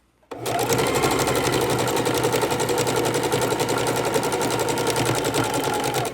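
A sewing machine stitches raw edge appliqué onto a scrappy quilted table runner. It starts abruptly and runs in one fast, even, continuous burst of rapid needle strokes, close and loud.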